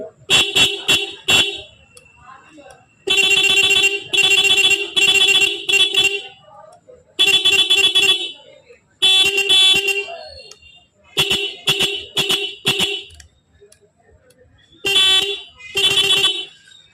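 A Bajaj Platina motorcycle horn, fitted with a new horn relay, honks in a series of loud, close, high-pitched blasts, some short toots and some held for about a second, separated by brief silences.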